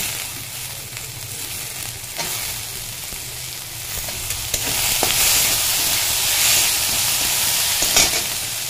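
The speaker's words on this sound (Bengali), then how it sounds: "এবার দেব টমেটো কুচি।" Chopped tomato drops into a hot pan of onion, ginger and garlic frying for paneer butter masala, and a steady sizzle swells into a brighter, louder hiss midway, with occasional scrapes of stirring.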